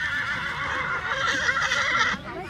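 A horse neighs loudly and close at an agricultural show, one long shrill whinny with a wavering pitch that holds steady and then cuts off abruptly near the end.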